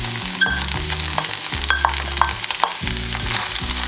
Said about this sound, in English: stir fry for a couple more minutes